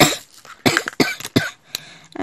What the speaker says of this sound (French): je tousse encore un tout petit peu le matin